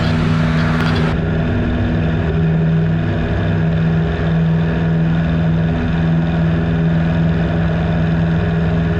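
A 150-horsepower Piper Super Cub floatplane's engine drones loud and steady during a water takeoff, with a brief rushing hiss at the start.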